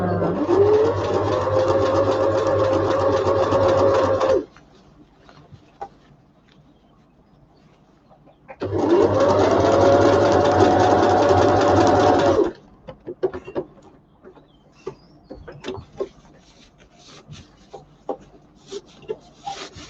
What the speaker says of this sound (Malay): Okey, sambung lagi jahit.